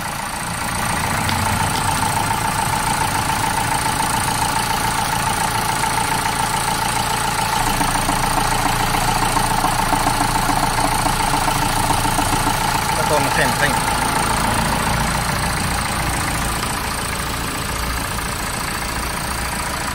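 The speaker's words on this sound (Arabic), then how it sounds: "نمشيو نشوفوا الدقة الموتور ديالها كيداير" A 2016 Dacia Dokker's engine idles steadily nearby with a low continuous rumble and even hum, running unchanged throughout.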